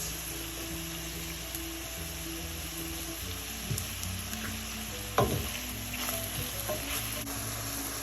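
Seasoned meat, salted and peppered, sizzles steadily as it browns in a pan, a continuous frying hiss with a few louder clatters of a utensil stirring against the pan midway.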